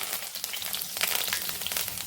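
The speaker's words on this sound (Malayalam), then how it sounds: "കടുകിട്ട് കടുക് പൊട്ടി കഴിഞ്ഞ് അതിലേക്ക് കറിവേപ്പില ഇട്ട് കൊടുക്കാം" Dense, crackling sizzle of mustard seeds spluttering in hot oil with scattered sharp pops, steady and close, with no voices.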